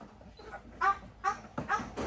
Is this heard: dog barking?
yes